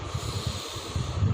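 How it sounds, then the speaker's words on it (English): A slow, airy inhalation drawn through the left nostril during Anulom Vilom pranayama breathing practice, a close, steady nasal hiss lasting just over a second. "We have to inhale from left."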